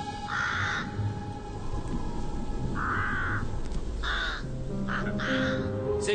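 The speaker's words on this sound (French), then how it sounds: "C'est juste un corbeau" A crow cawing at night outdoors, several harsh, loud calls spaced apart, some in quick pairs, over a steady background noise.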